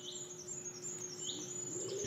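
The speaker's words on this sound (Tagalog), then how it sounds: "Ang maririnig mo lang dito ay ang huni ng mga ibon." Birds chirp and tweet in short repeated calls on a quiet mountain campsite, with a steady high insect-like drone and soft ambient hum underneath; no one speaks.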